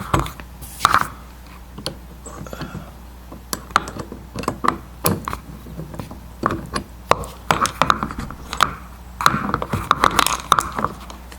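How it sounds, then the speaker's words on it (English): A ratchet unscrewing a door panel screw on a 2002-2007 Subaru Impreza WRX, heard as scattered close clicks and ticks mixed with light plastic handling noises over a low background hum. "Same thing, of course, just unscrew"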